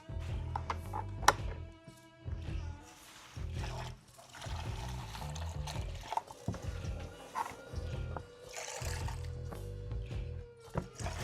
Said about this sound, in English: flush out the heater matrix too